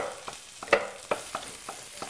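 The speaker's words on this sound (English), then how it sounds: "Ooh, listen to that sizzle there." Vegetables sizzle in a frying pan while an Alfredo sauce is made, a soft steady crackle broken by several light spoon or spatula taps against the pan, quiet and close.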